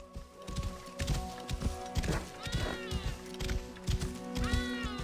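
Horse hooves clip-clop in Assassin's Creed Origins, a steady run of soft thuds under game music and ambience, with a couple of brief whinnying sounds mixed in.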